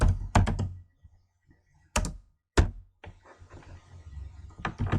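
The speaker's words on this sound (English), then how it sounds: "Click on the screen and type in slide 1." Keys on a computer keyboard tapped in a few short clusters of clicks and thumps, separated by quiet gaps, with no talking.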